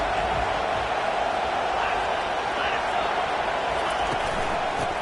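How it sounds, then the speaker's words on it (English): A college football stadium crowd roars steadily during a UNC game, a dense, continuous wash of noise heard under a commentator's voice. "This crowd trying to make life miserable for this offense."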